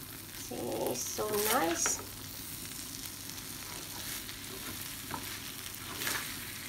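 Pad thai noodles with crushed peanuts are stirred and tossed in a hot pan, a steady close sizzle with scraping. A short spoken comment comes early, over the frying.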